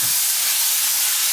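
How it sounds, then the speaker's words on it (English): Chickpeas hit hot oil in a home kitchen pan, giving a loud, steady, close hiss of sizzling and steam that runs without a break. "Don't be scared of the steam and the smoke, that's just the water evaporating very fast."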